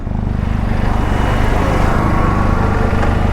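Benelli TRK 502 twin-cylinder motorcycle exhaust running steadily at close range, a continuous low throbbing engine note with no pauses and no talk over it.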